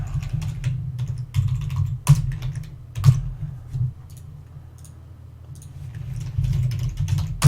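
Steady, close keyboard typing while entering JavaScript code, with quick irregular runs of keystrokes over a low background hum and no talking.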